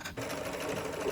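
A sewing machine is stitching elastic onto lingerie, giving a continuous steady close whir and rapid mechanical chatter with no break, heard alone.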